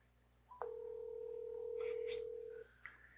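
A telephone ringback tone while calling someone: a short beep followed by a long steady electronic tone, then another beep, clear and close over faint background noise.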